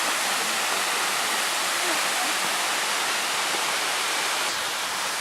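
The Écureuil cascade in Auvergne, France, pours in a steady, loud, close roar of falling water that holds constant throughout without a break.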